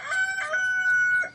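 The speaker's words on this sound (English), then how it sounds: "Yes, that is a rooster in the background." A rooster crows once in the background of a garden yard, a single clear sustained cock-a-doodle-doo, moderately distant and alone.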